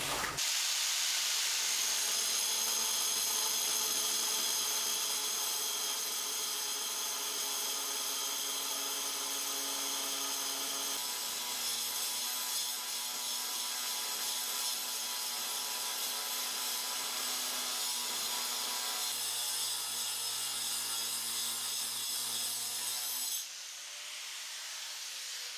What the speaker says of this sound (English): So we're going to cut it with the diamond wheel.